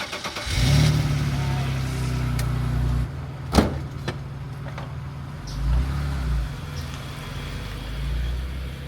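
A rough 1998 BMW Z3 with a six-cylinder engine and five-speed manual cranks and catches, settling into a low, steady idle that runs on with a few clicks and brief louder swells, fairly close by.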